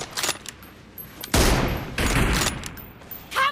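Gunfire in the mobile battle-royale game PUBG Mobile: a few loud, sharp bursts, including a sustained volley in the middle, standing out over quieter background game sound.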